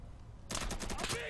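Rapid automatic MP5 gunfire in the Insurgency video game, a dense burst of sharp shots starting abruptly after a brief quiet moment and continuing loud and close for the rest.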